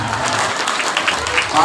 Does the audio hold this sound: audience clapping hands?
yes